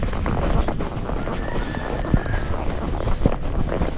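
Hooves of a gaited Rocky Mountain horse under a rider strike ground in a quick, steady clip-clop rhythm, fairly close, with a brief whinny-like note and faint background noise.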